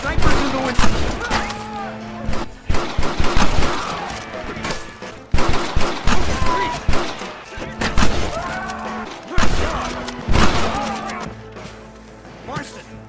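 Gunfire from snipers firing from a window during a town shootout in the video game Red Dead Redemption: repeated loud cracks and bursts over a dense battle soundscape, with voices and music running underneath.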